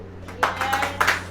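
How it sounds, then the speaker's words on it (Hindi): A church congregation clapping hands together, a brief run of sharp, close claps in an uneven rhythm over low room hum. "ताली बजाइए।"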